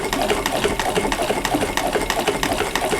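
A sewing machine runs steadily while back stitching the edge of a small Christmas mug rug, its rapid needle chatter close and continuous with regular pulses.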